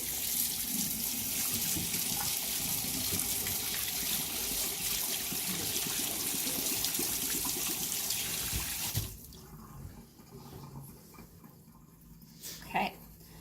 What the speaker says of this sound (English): I'm just gonna rinse my hands really quick.